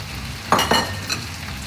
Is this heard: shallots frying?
yes